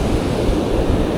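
Surf rushes onto the beach at Jacksonville, Florida, a steady loud wash of breaking waves mixed with wind noise on the microphone.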